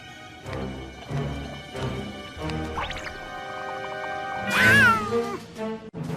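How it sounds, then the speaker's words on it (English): Cat meowing, a drawn-out caterwauling cry rising into a loud, high wail near the end over a busy musical background. "Meow. Said the cat."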